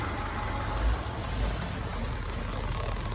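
A Subaru EJ203 engine idles after being swapped into an Outback, giving a steady, even broadband rumble that holds constant throughout with no talking.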